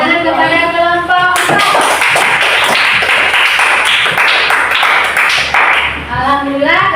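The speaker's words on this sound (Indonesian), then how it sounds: "Tepuk tangan kepada kelompok" A group of people gives a presenting group a round of steady applause lasting about five seconds, loud and close, with talking heard before and after the clapping.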